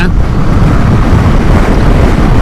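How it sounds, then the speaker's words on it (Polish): Strong wind buffeting a rider on a KTM Duke 390 motorcycle at speed on a motorway, a loud continuous low roar with no pauses and no other sounds over it. "powiem wam, że wieje. Wieje."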